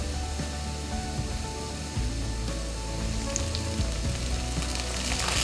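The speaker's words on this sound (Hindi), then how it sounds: "प्याज की अच्छी तरह भुनाई करेंगे। ये प्याज हमारे ब्राउन हो चुके हैं।" Onions frying until brown in a pan for a mixed vegetable sabzi, a steady close sizzle with some crackling that holds level throughout and grows slightly brighter toward the end, no talk.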